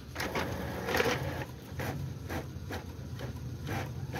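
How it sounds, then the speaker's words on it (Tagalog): A printer in a QR-payment printing vending machine prints a page in short repeated mechanical bursts, a rhythmic whirring and clicking at moderate volume with brief pauses between passes. "papunta siya na sa printer, magpi-print na siya"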